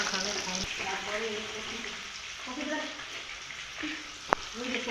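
Fish frying in a home kitchen pan, a steady close sizzle running throughout with brief stirring clatter, a sharp knock near the end, and faint voices in the background.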